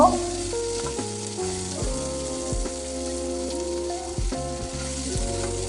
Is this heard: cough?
no